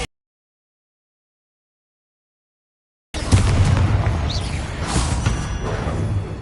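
After about three seconds of silence, the Bombarda explosion spell in Hogwarts Legacy bursts in with a sudden boom that rolls into a sustained, loud, rumbling roar.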